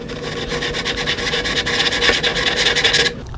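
A lapping bar is worked back and forth inside Leupold scope mount rings on a Remington 700 rifle, a close, continuous metallic rasping with rhythmic strokes that stops abruptly near the end.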